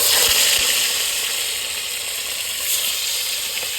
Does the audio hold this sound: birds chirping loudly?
no